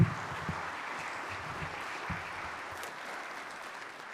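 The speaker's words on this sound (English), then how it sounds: "So I encourage you to give Kyler a warm welcome of applause as he begins a word for us today." A church congregation gives warm applause to welcome a speaker, a moderate, even wash of clapping that holds steady throughout with a few louder single claps standing out near the front.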